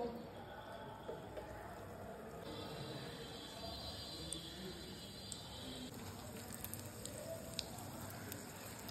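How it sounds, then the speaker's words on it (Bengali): Battered chillies for chilli pakora fry in hot oil, a soft continuous sizzle and crackle like light rain, quiet and steady throughout. "এবার আমি গরম তেলের মধ্যে দিয়ে দেবো।"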